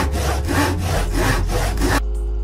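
A hand saw rasps through wood in loud, close, even strokes, roughly four or five passes, that stop abruptly near the end.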